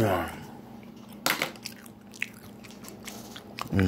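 A crunchy Taco Bell quesadilla is bitten and chewed close up, with a loud crisp crunch near the start and softer chewing and squishing after, briefly under a voice.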